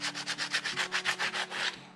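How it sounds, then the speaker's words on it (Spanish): Fine sandpaper rubs back and forth over handmade clay pottery in a steady, even rhythm of close, raspy strokes, about six per second, with no voices. "con una lija más suave, para que vaya quedando lijadito."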